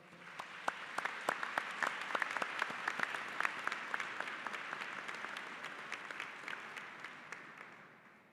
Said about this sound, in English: Graduates, I ask that you give your support system a round of applause.